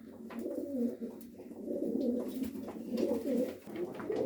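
Low, soft pigeon cooing rolls on steadily, a throaty murmur with brief breaks, fairly close and with no talking.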